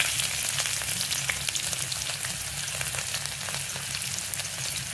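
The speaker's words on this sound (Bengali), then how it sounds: "ফোড়নগুলো কিছুক্ষণ ভাজা হয়ে যাওয়ার পর রসুন কুচি দিয়ে দিলাম।" Chopped garlic sizzles in hot oil along with tempering spices, a steady, dense frying hiss that stays loud and even throughout with faint crackles and no voices.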